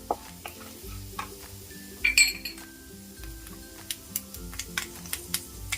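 Chopped garlic and fenugreek seeds sizzle in hot oil for a raw mango curry, a soft steady frying hiss with scattered spoon clinks and stirring taps against the pan, close and quiet with no talking.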